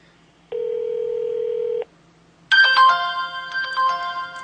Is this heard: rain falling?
no